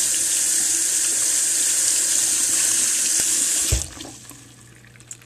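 Water runs steadily from a tap over a makeup brush being rinsed with baby shampoo, a loud, close, even hiss that stops abruptly near the end, leaving a few faint drips and clicks.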